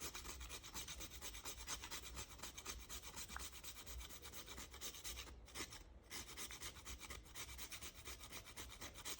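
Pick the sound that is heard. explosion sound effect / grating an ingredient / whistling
grating an ingredient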